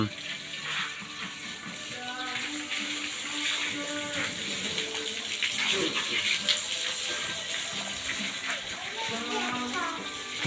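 Steady hissing water spray washes down a parked 12-wheel truck, a continuous splashing rush with fluctuating intensity, with voices talking faintly in the background.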